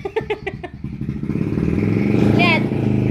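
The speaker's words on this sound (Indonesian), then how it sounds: "Malah lihat motor." A motorcycle passes close by outside, its engine rising to a steady loud drone. Beforehand come a few sharp clattering knocks, and a high squeal cuts in briefly near the end.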